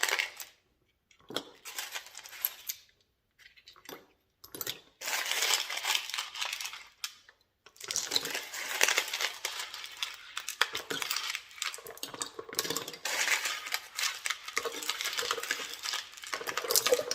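Wet polishing rocks clatter and clink as they are put back into a Lot-O tumbler barrel, bursts of hard stony rattling with short pauses between handfuls, fairly close.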